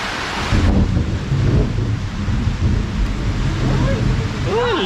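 Thunder rolling during a rainstorm, a loud continuous low rumble over steady rain noise, close and enveloping, with faint bird chirps near the end.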